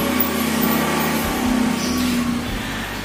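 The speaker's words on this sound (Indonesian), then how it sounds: "Itu karena kita di pinggir jalan, suara motor dan sebagainya" Steady roadside traffic drones continuously as motorcycles pass by a street-side spot, with a low engine rumble and a hum that swells slightly partway through.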